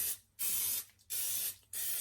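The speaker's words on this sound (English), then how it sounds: "You'll want to spray your muffin tin with some cooking oil." Cooking oil sprayed onto a muffin tin for bacon cheese biscuits in three bursts of hissing aerosol, each lasting about a third of a second. Short quiet gaps separate the bursts, and the spray is close and clear with no talking.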